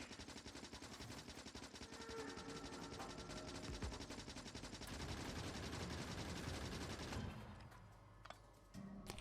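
Gun turrets fire bullets in the game Factorio, a dense, continuous rattle of rapid automatic shots that stays loud for about seven seconds and then thins out to sparse bursts.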